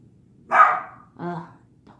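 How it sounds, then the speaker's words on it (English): A dog in a house gives two close, loud barks about half a second apart, the second shorter and lower, in an otherwise quiet room. "Dogs."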